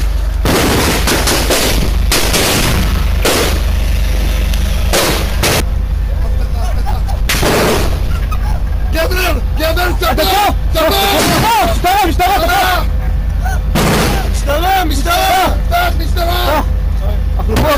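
Gunfire and explosions during an elite police commando rescue under heavy fire at a kibbutz on October 7th, with sharp repeated bursts and impacts over constant loud background noise and babbling voices.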